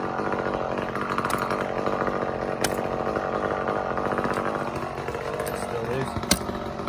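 A handsaw cutting through a climbing flipline, with steady rasping strokes under a continuous engine-like drone, a few sharp knocks near the end and a voice speaking over it.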